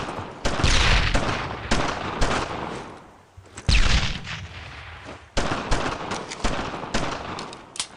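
Dense wartime gunfire in the World War II shooter Brothers in Arms: Road to Hill 30 during the Utah Beach landing, with loud overlapping rifle and machine-gun bursts and booms rolling continuously, nearby shots punctuating a steady battle din.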